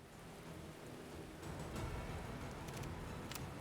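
Steady rainfall hisses across a storm in the open-world shooter game Dysterra, with soft crackling thunder and a few sharp drop bursts, fairly quiet and with no voices.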